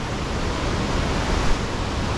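A mountain creek near the Dosewallips River rushes in a steady, dense, loud wash of water with no pauses and no voices.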